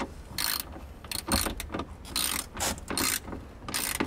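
Ratchet wrench clicking in quick bursts while the top bolts on a Ford Bronco are tightened, several close, crisp runs of pawl clicks separated by short pauses, with no talk.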